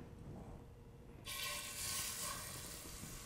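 A flat liver burger patty hits hot oil after a quiet moment, and a loud, steady sizzling hiss starts and holds to the end.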